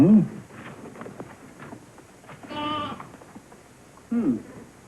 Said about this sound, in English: how in tarnation would a sheep get in there?